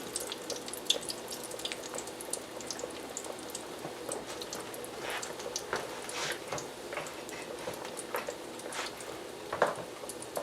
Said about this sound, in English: And then you just let them fry for 2 or 3 minutes.